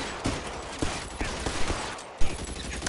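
Quick volleys of gunshots in the virtual-reality game L.A. Noire, loud clustered cracks over a busy, noisy background, ending with a heavier blast.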